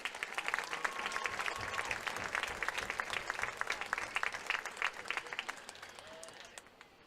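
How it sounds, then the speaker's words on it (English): Steady applause from a crowd at a high school homecoming court ceremony, filling the whole stretch with dense clapping that tails off near the end. "Please give them a round of applause."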